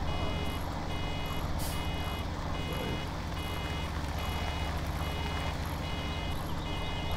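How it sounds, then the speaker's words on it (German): Regular reversing alarm beeps from a vehicle in Farming Simulator 2017, repeating steadily over a constant engine drone throughout. "Das macht sogar einen Alarmton."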